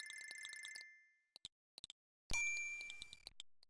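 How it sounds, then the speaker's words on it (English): A bell rings in the Space Quest 6 computer game, giving a clear ringtone-like electronic chime that sounds a moment after a brief run of soft clicks. The chime stands alone and decays over about a second. "let's ring the bell"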